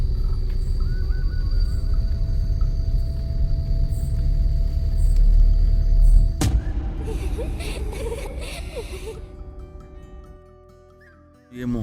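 A car rolling slowly along a jungle road at night in the Mohan forest near Jim Corbett, a steady low engine rumble with a sharp knock partway through, then the drone fading away, no talking heard.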